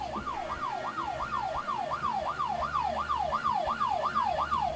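A police siren in the video game Fears to Fathom wails in a steady, rapid up-and-down cycle, loud and continuous over a low rumble, with no talk.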